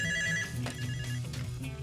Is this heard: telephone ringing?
yes